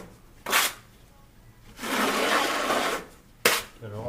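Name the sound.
trowel scraping thinset off Kerdi membrane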